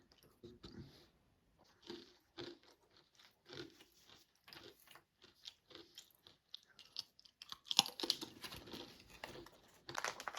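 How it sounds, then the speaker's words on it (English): Crunchy cracker topped with sharp cheese from a Russian Mountain 24-hour ration being chewed close up, with repeated bursts of crisp crunching and a few crinkling wrapper sounds between quiet moments and brief talk. "between that sharp cheese, combine that with the crunch of the cracker"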